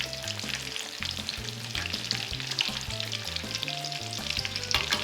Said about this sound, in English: after deep frying tonkatsu